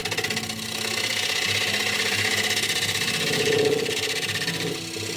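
A wood lathe spins a spalted wooden bowl while its inside is hollowed, giving a steady mechanical whir with a hissing cutting scrape that swells slightly midway, continuous and close.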